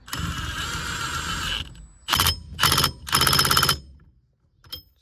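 A ratchet tightens the bolts on an NRG aftermarket steering wheel being fitted to a Foxbody Mustang, heard as a long steady clicking run and then three shorter bursts of close, loud ratcheting, with a faint click near the end.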